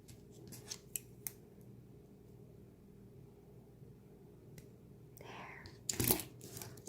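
Scissors snip earring coil wire, a cluster of sharp cuts near the end after a few faint earlier clicks, heard close against a low steady room rumble.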